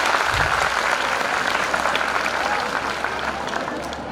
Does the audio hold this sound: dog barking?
no